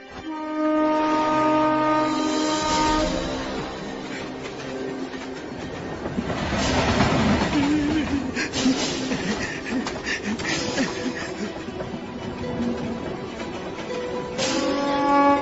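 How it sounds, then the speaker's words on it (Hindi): A train starts and rolls along the rails, with a sustained rumble, rhythmic clatter and hiss, and tonal horn-like or brake tones, loud and continuous throughout. "ट्रेन चल पड़ी।"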